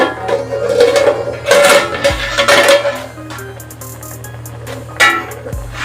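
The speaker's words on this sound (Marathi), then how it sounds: "झाकण उघडून बघूया" A lid lifted off a pot of spinach steaming in a little water, with close metallic clanks and scrapes of the cover and cookware, a few sharp knocks standing out.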